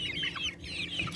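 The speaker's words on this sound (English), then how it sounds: "And then we think that one there's our rooster." Chickens in a backyard homestead coop cluck softly and continuously, a close, faint stream of murmuring hen calls with a low background hum and no talking.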